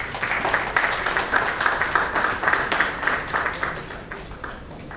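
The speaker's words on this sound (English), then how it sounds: "A big round of applause for ma'am, please." Audience claps to welcome a guest at a national summit, a steady round of applause from a seated crowd that fades slightly toward the end.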